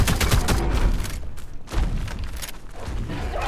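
Gunfire in the Ark video game: rapid bursts of sharp shots in two clusters with a brief lull between, followed by scattered thumps, moderately loud.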